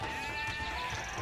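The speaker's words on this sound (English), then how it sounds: "I'm stealing Red's sheep, but I'm not gonna complain." Age of Empires II sheep giving a clear, wavering bleat, close and distinct over quiet game ambience.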